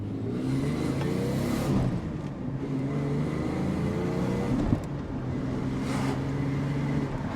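A Ford Falcon diesel engine revs up and eases back through a Redback exhaust, a sustained throaty drone rising and falling over several seconds.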